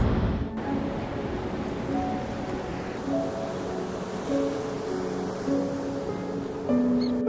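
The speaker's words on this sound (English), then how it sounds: "Some crashing waves." Pacific Ocean waves crashing along the coast at Lincoln City, a steady low roar of surf heard from indoors or nearby at moderate level, with faint swells in the wash and no talking.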